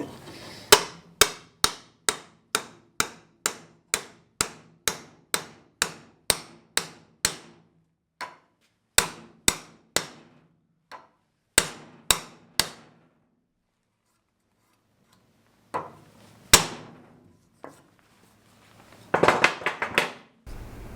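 A hardwood insert is hammered into the end of square steel tubing with a long run of sharp, evenly paced blows, close and loud, then scattered strikes after a pause and a final cluster of rapid taps.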